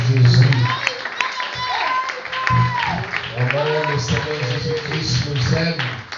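A church congregation clapping and cheering for Jesus, steady rhythmic applause mixed with voices and a talking preacher throughout.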